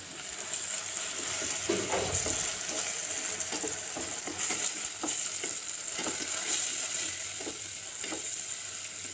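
Onions frying in a pan with a ground paste of ginger, garlic and curry leaves for a veg cutlet filling, giving a steady close sizzle with scattered scraping stir clicks throughout.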